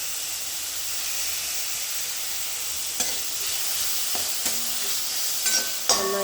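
Ingredients for a Kerala tomato chutney sauté in a pan, giving a steady broadband sizzle with a few sharp spoon-scrape clicks toward the end, close and fairly quiet, with no voices.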